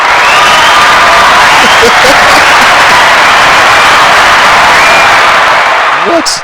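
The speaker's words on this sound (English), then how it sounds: "We give a round of applause." A studio audience gives a sustained round of applause, dense clapping and cheering holding steady at full loudness throughout, with a few voices mixed into the crowd noise.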